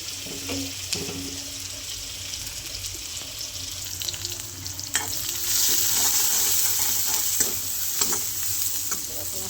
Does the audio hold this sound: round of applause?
no